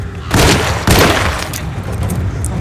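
Gunfire during combat in the video game Alone in the Dark: two loud booming blasts about half a second apart, each trailing into sustained rumbling noise, with faint clicks later and no talking.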